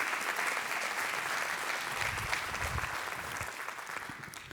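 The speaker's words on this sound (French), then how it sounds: "Marie Prouveau, que vous pouvez applaudir et que nous accueillons sur scène" Audience applause for a speaker being welcomed onto the stage at a workplace wellbeing talk hosted by a clinic, a steady dense wash of clapping that holds for several seconds and tapers slightly toward the end, with no voices over it.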